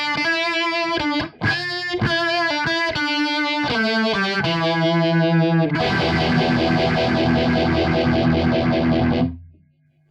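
Electric guitar through a phaser on a high-gain channel: sustained distorted chords with a sweeping tone, shifting into a dense held chord that rings loud before cutting off near the end, with no talking.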